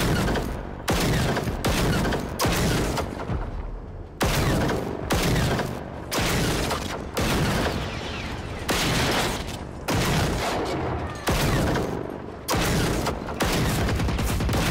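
In the Generation Zero shooter game, sniper fire comes as a series of loud, evenly spaced gunshot bursts, roughly one every second or two, each with a booming tail, with no speech.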